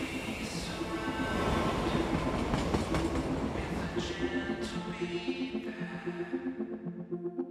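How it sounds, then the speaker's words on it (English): An animated cartoon express train to the Bay Area Airport rumbles and rattles steadily nearby, wheels clacking on the rails, then the sound gradually thins and fades as it pulls away. "Express train for the Bay Area Airport, leaving now."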